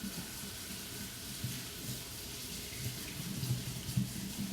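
Beans for a breakfast salad rinsed under a running kitchen tap, a steady hiss of flowing water with soft splashing and slight rattling that grows a bit louder toward the end, without speech.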